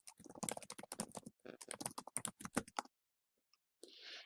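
Rapid clicking keystrokes on a computer keyboard as an email address is typed in, a dense burst of taps for nearly three seconds, then a pause, a lone click and a short soft rustle.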